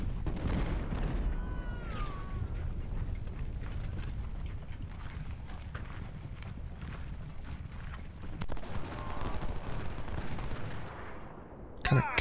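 Artillery and cannon volleys in the Civil War strategy game Ultimate General: Civil War, a dense, rumbling battle soundscape with repeated booms and crackling gunfire, plus a brief sharp crack at the very end.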